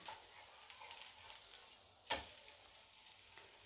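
Ghavan, a thin rice crepe, cooks on a hot pan with a faint, steady sizzle and light crackling, broken by one short scraping clatter partway through, with no talking.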